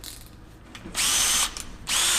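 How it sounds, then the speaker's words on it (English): Two short, loud bursts of a hammer drill whirring at high speed, separated by a brief pause, close up. "So this is my hammer drill, not to be confused with an impact driver"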